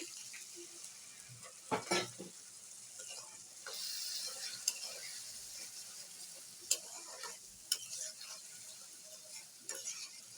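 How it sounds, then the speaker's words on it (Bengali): Splash of water meets frying ginger garlic paste, bay leaf, potato and onion: a constant soft sizzle broken by several sharp clacks of a spoon stirring against the pan, close and fairly quiet. "অল্প করে পানি দিয়ে দিচ্ছি।"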